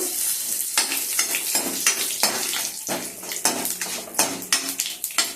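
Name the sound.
tempering spices frying in oil in a pan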